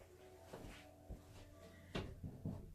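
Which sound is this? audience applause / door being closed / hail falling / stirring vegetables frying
door being closed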